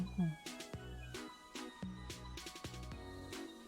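Cat meowing in the game Omori, short game-audio meows set against steady background music with repeated low musical hits.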